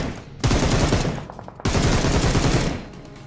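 Gunfire in the mobile battle-royale game Peace Elite: two loud, close bursts of rapid automatic fire, each a dense run of sharp shots lasting over a second, with a brief gap between them and no talking.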